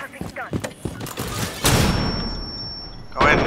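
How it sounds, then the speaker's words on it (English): Rapid bursts of gunfire in a shooter video game, a quick volley of sharp shots then a louder blast near the end, mixed with game effects while a player talks over it. "Luca, just shoot straight ahead."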